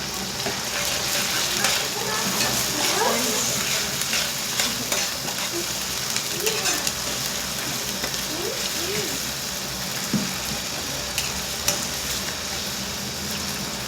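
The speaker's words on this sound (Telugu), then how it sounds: "ఇవి మంచిగా వేగనియండి" Tomato pieces with mint and coriander leaves fry and sizzle steadily in a pan for a chicken curry, with occasional stirring scrapes and faint background noise throughout.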